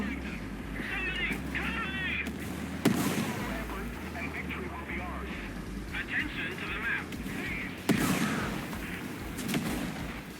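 Two heavy cannon blasts from an IS-4M tank in War Thunder boom out about five seconds apart over a steady engine rumble, with a person talking throughout.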